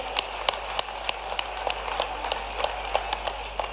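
Scattered, fairly light applause from a political rally audience greeting UP deputy chief minister Dinesh Sharma, with uneven individual claps spread steadily across the moment and no talking over them.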